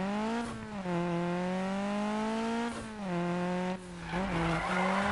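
Car exhaust revving in repeated rising and falling sweeps, with tire squeal and skidding layered in, loud and close, with no talking.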